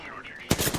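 Gunfire in the video game Apex Legends, a sudden burst of rapid shots erupting after a brief quiet moment with faint voice-like sound, loud and close.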